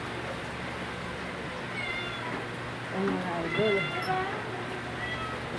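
Pet cats meow indoors near a feeding spot, several short plaintive meows clustered in the middle and later part, close and moderately loud, with a person talking softly in the background.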